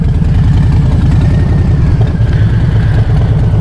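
A 2019 Harley-Davidson Street Bob motorcycle rumbles loudly and continuously at low speed while lane splitting through traffic, its deep, throbbing engine note steady and close with faint road noise above it.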